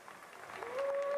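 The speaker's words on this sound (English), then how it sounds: "Rose and applauded him." Stadium crowd at a North Carolina State vs. Virginia Tech college football game applauding, a brief swelling wash of clapping that grows louder toward the end, with a faint voice over it.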